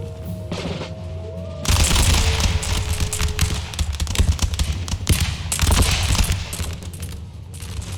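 Musket volleys crackle in the Empire: Total War video game, dense rolling fusillades with heavy booms that swell loudly around the middle and end, set over a steady battlefield din.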